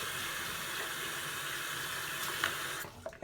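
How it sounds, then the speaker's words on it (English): Tap water runs steadily into a sink as hands are rinsed beneath it, a close, even rush that stops abruptly near the end, leaving a few small drips and clatters. "So rinse off your hands after that."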